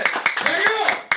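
A handful of quick, evenly spaced hand claps applaud Sophonel, mixed in with a person speaking over them.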